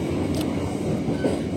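The Siliwangi passenger train runs from Sukabumi to Bandung, giving a continuous rumbling roll and rattle heard from on board, with no speech.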